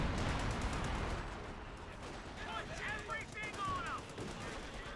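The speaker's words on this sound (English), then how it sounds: "Good mortar hit there." Mortar impacts and gunfire in Company of Heroes 2 battle: a dense rumble of distant shots and blasts fading under a muffled voice, with scattered whistling and chirping effects layered near the end.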